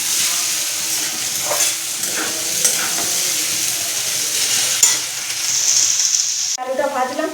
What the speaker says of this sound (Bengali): আলুটা ভাজলাম